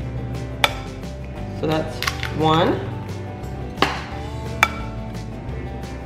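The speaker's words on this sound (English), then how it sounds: "now I'm going to go ahead and crack 2 eggs" Two eggs are cracked on a kitchen counter while a Texas BBQ meatloaf is being mixed. A few sharp, close taps are spread across the moment, with a short stretch of speaking between them.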